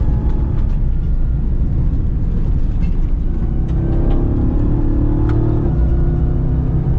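A custom Ram TRX pickup roars along an off-road trail at speed, a loud, close, steady engine drone with a brief rise in revs midway and rumbling road noise throughout, no speech.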